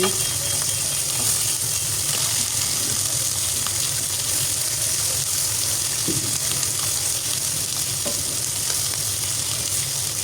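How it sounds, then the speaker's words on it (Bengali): Small puti (pool barb) fish sizzle and crackle steadily in hot oil in a pan, a continuous close frying hiss with occasional faint pops and a light scrape of a utensil. "এখন মাছগুলো এক পিঠ খুব সুন্দর করে ভাজা হয়ে গেছে আমি অপর পিঠ আস্তে আস্তে করে উল্টে দিচ্ছি"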